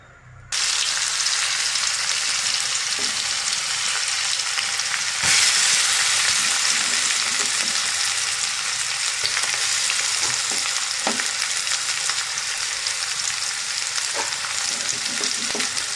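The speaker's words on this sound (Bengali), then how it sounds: "এখন পেঁয়াজ রসুন ছেঁচা দিয়ে দিব তেলের মধ্যে।" Crushed onion and garlic hit hot oil in a wok and burst into a loud, continuous sizzle that holds steady and close for the whole stretch, with occasional stirring clicks and no voices.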